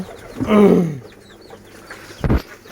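Lotan pigeons on a pigeon farm give one close, warbling call that falls in pitch, followed by a short, sharp burst of fluttering or scuffling.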